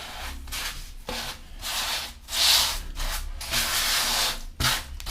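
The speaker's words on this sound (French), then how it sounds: "Et on va bien remplir le joint." Grout is worked into interior or exterior floor tile joints with a float, giving repeated rough scraping and rubbing strokes, close and steady, with no talk.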